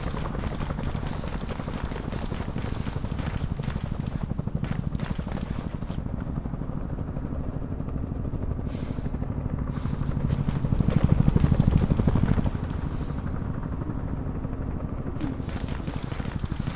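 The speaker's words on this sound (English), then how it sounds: "multiple helos got into the air before we reached the target area" Helicopters fly in Ghost Recon Advanced Warfighter, the original Xbox game: a steady rotor thrum and engine drone throughout, swelling louder for a moment midway, with other game sounds layered over it.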